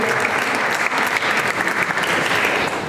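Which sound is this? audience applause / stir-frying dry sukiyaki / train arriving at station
audience applause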